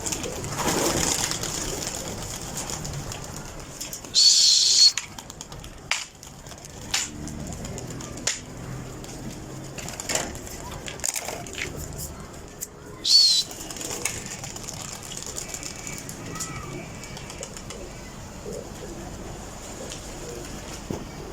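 Pigeons being stirred to fly in summer: soft cooing and a few short bursts of wing flapping over a steady outdoor background, with faint voices now and then.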